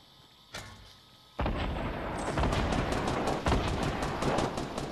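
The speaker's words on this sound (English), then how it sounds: "Oh, there's gunshots." Rapid bursts of Fortnite gunfire crackle almost nonstop after a single early shot, loud and close, with sharp repeated cracks layered over a rumbling background.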